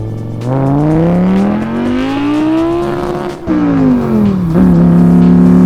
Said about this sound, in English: We're going to go for a drive.